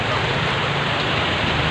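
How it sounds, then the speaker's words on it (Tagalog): Heavy rain falls during a drive home, a dense, steady roar of water drumming on the vehicle with a low rumble underneath, loud and unbroken throughout. "Pauwi na po kami, malakas na ulan."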